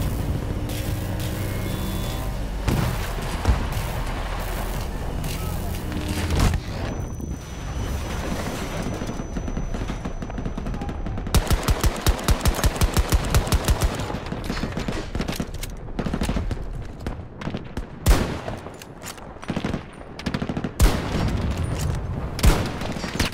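Heavy gunfire in the Battlefield 2042 opening mission: sustained rattling automatic bursts and explosions, a fast evenly spaced volley of shots in the middle, booms and wind rumble throughout, loud and close with no talk.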